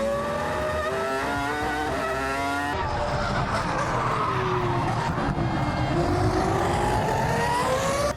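A Formula 1 car at full throttle around the A1 Ring in an F1 2003 racing video game, its high-pitched engine screaming steadily, climbing through gears, briefly dropping for a shift, then winding up again with faint tyre scrub, continuous and loud.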